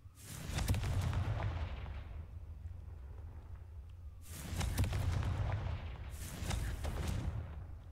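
Three booming blasts of the Confringo explosive spell cast in the video game Hogwarts Legacy, each a loud burst with a long rumbling tail, spaced a few seconds apart.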